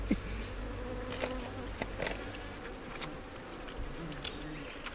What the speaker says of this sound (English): There's bees here.